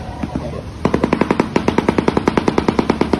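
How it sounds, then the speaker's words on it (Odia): A shoebill stork makes a rapid, evenly spaced clatter that sounds like machine-gun fire. The bursts are loud and close, and start after a quieter opening. "ଏହି ପକ୍ଷୀର ନାଁ ହେଉଛି ଶୋଇବିଲ୍ ଷ୍ଟର୍କ।"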